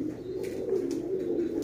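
Household pigeon coos softly and continuously, a low throaty murmur that sounds close and fairly quiet, with no voices present.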